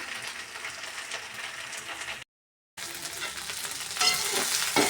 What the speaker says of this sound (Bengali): ঢেঁড়স ভাজা তো হয়ে গেছে